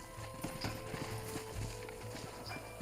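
Horses clip-clop at a quick gallop in the Western video game Red Dead Redemption, a rapid rhythmic hoof beat over a steady background of game sound.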